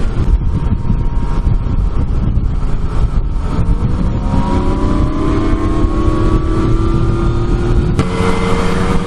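A Yamaha Tracer motorcycle is ridden on the road, its engine droning loud and steady with rising rev tones as it accelerates, heavy wind rushing over the microphone throughout.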